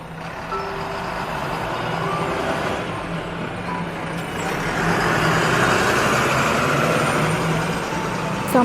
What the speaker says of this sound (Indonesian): Kami berangkat dari Ciamis, naik bus cepat.